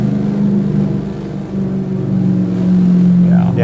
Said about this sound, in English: this is rough on the engine right here. High torque, low RPM.